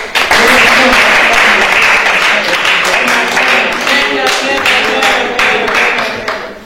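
A church congregation applauds during worship with loud, sustained clapping, and voices cheer and speak over it throughout.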